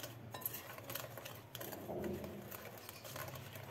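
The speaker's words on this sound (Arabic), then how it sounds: "نخلطوا كل شيء." A utensil stirs and scrapes a bowl of dry cake mix with sugar and cocoa powder, giving soft irregular clinks and rustling scrapes at close range with no talk.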